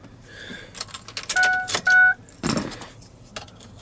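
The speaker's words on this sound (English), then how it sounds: "So here's the new key." A Ford 7.3 diesel truck key jangles against its ring in a few close metallic bursts, with electronic beep tones in between and a brief scrape near the end.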